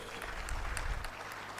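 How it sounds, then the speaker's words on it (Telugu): An audience at a business forum in a convention hall applauds. The applause is a soft, dense wash of many hands, fairly distant and even, with no voices standing out. "గట్టిగా కొట్టండి చప్పట్లు."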